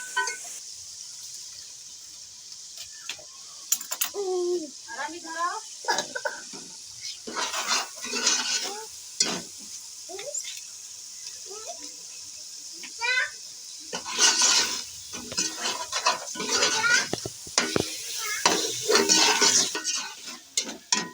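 Tomatoes and spices cooking in a pan for a fish dish, with a soft sizzle under intermittent scraping and clattering of a spoon against the pan, some knocks loud and close.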